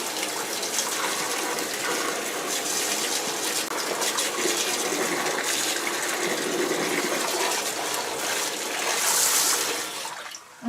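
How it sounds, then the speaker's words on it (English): Water flushes vinegar through a Rheem tankless water heater during an annual maintenance flush, a steady, loud, broadband gushing rush that runs continuously, alone, with no talking. "So I'm just going to rinse out the vinegar, flush out the vinegar through the system for about 30 seconds to a minute."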